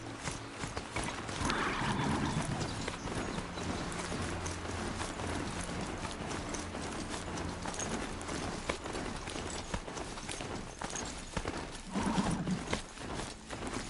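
Rapid, continuous hoofbeats of a video game horse mount in Horizon Zero Dawn clatter at a steady gallop under a constant background rush, moderately loud and close, with no talking.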